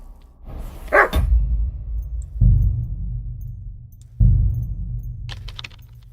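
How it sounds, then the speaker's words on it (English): A dog barks in the video game Kingdom Come Deliverance 2. It gives three sharp, close barks spaced a second or two apart, and a faint jangle follows the last one. "Hey, whistle at that mutt of yours to stop barking."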